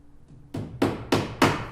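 A hammer strikes a 2.5 inch siding nail into wood four times in a steady rhythm. The blows are close and sharp, each ringing briefly.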